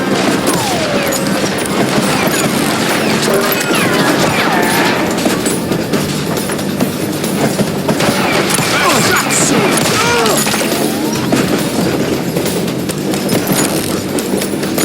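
Gunfire in the Call of Juarez: Gunslinger western video game, a dense continuous barrage of shots with hoofbeats and crashes mixed into a loud, unbroken battle din, with shouting voices over it.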